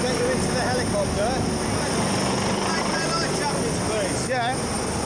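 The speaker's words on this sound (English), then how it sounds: "I'm obviously going to get you into the helicopter." Rescue helicopter at sea hovers nearby with a loud, continuous rotor roar and engine whine, steady throughout, with faint voices under it during a casualty rescue off Whitstable after a capsized boat.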